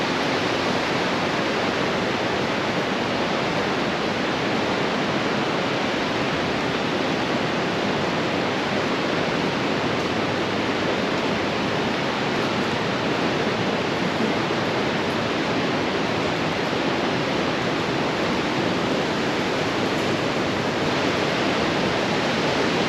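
Waterfall from a burn pouring into the rear of a sea cave chamber on the NC500 route in Scotland, a loud, constant roaring rush of water with no voices.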